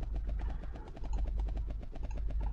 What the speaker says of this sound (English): Oh, and a helicopter!